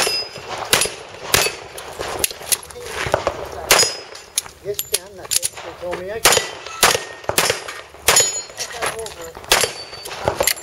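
Repeated .45 caliber pistol shots crack sharply at a shooting stage, each followed by ringing clangs from steel targets, in an irregular rapid series with brief pauses between strings.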